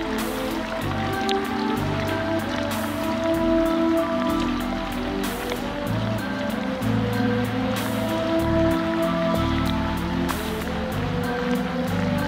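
Steady, heavy rain pours onto a street in Mactan, Cebu, a dense continuous patter and wash with no voices.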